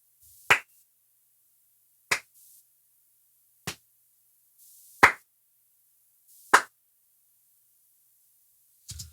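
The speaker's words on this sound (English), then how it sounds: "So what I'm going to do is just record some live hand claps wild" Live hand claps are recorded for resampling, six sharp single claps spaced about one and a half seconds apart in an otherwise silent room, close and crisp.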